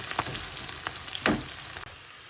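Onions frying in a pan give a steady crackling sizzle close by, with a few sharper pops and stirring scrapes through the short stretch, with no one talking.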